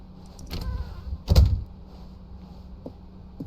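An office door in the video game The Stanley Parable opens with a soft click followed by a heavier clunk, close and isolated against a quiet room hum, with no voices.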